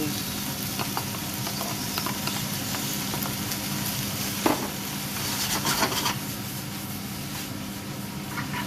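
Noodles for chicken pad thai stir-frying in a hot pan, a steady dense sizzle with occasional stirring scrapes and a brief clank, close and continuous throughout.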